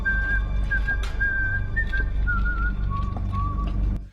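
A man whistles a tune while pushing a cart, a clear wavering melody of sustained notes over a low rumbling background, with a few faint knocks before it fades out.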